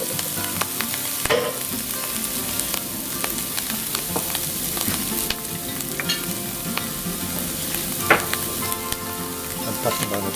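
Morel mushrooms fry on a gas grill with a steady, close sizzle and crackle, broken by occasional scraping clicks as they are stirred; nobody speaks.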